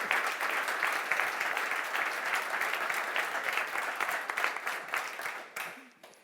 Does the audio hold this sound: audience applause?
yes